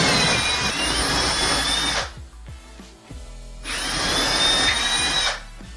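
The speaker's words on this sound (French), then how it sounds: "j'ai plus qu'à percer mes trous pour pouvoir mettre en place mes chevilles mollies" A power drill bores holes into a wall for molly anchors, two loud sustained whining runs of about two seconds each with a quieter pause between them.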